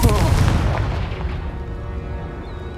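A Confringo fire spell explodes in the video game Hogwarts Legacy, a loud booming blast at the start that rolls into a long, fading rumble.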